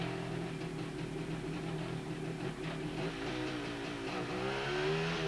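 A CZ motorcycle engine runs on a factory roller test stand, revving and rising in pitch toward the end, loud and continuous with no speech.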